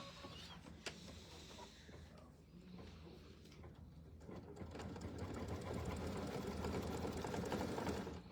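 A sewing machine stitches out a quilt block in a steady mechanical whir that grows louder toward the end, with people talking quietly underneath.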